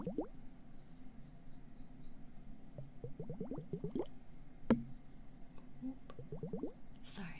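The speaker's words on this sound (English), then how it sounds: "I don't know if you like water noises" Quiet bursts of bubbling, squishy water sounds come in quick rising runs of several blips each, repeating across the stretch over a soft background, with speech present.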